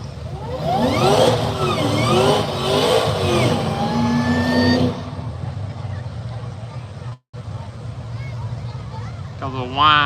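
A Dodge Challenger and a Cadillac at an arm-drop drag race, engines revving loudly with rising sweeps, then a lower steady rumble as the cars pull away, with a voice speaking at the end.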